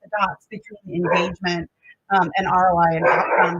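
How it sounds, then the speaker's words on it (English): Dogs bark in short yips and woofs close by, overlapping a man presenting in a steady voice who keeps talking through the barking. "So sorry about my dogs"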